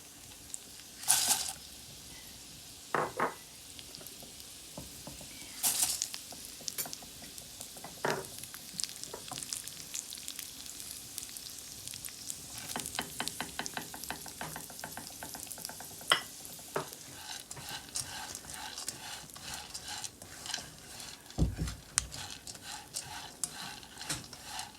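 Seeds sizzle in a spoonful of hot ghee in a pan for channe ki daal panjeeri, a soft steady frying hiss broken by occasional sharp scrapes and clinks of stirring.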